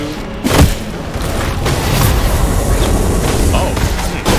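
A video game boss unleashes a breath attack: a booming blast followed by a sustained, loud, roaring rush of noise that holds steady for several seconds, with brief thuds layered over it.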